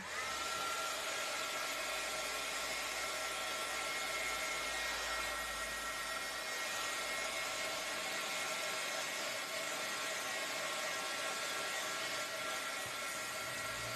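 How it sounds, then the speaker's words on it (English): A handheld craft heat tool blows steadily and loudly for the whole stretch, drying wet paint before stamping; a constant whooshing fan-and-heater roar with no pauses or talking. "Now I do need that to dry though before I stamp on it, so I am going to get out my heat tool."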